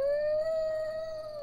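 A dog howls in The Witcher video game, one long sustained wavering tone held steadily from start to finish, loud and close, with no other sounds around it.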